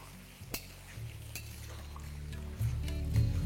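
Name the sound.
stirring fried banana stem in a pan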